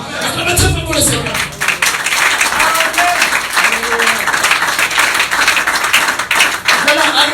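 A church congregation applauds, dense sustained clapping with a mix of voices and calls throughout, steady and loud from start to finish.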